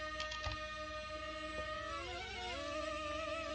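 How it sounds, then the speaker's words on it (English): The small electric motor of a KF606 RC plane whines steadily, its pitch sliding and wavering as the controls are moved, heard up close and alone. "you can hear the engine pitch change as I move the left and right"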